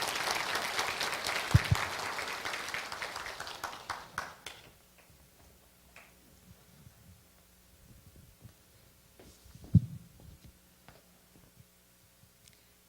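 A church audience claps for roughly four seconds, a fairly soft wash of applause that fades out, followed by near quiet with faint rustles and a couple of isolated bumps.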